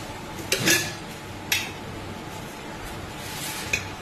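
A spoon clinks and scrapes against a bowl while spiced semolina batter with chili flakes, salt, cumin and chopped coriander is stirred, giving a few sharp metallic taps over a soft wet mixing hiss.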